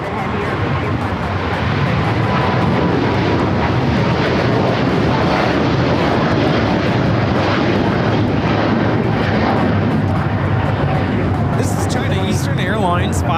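An Aeromexico 647 heavy airliner on its takeoff roll at LAX gives a loud, continuous jet roar that holds steady throughout, with voices talking underneath.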